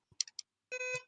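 A dying fire alarm gives a few short electronic chirps followed by a longer, higher beep, all faint and sounding alone.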